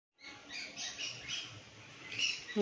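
Pet birds give a run of close, overlapping squawks and chirps that rise and fall over a couple of seconds, with a sharper burst near the end.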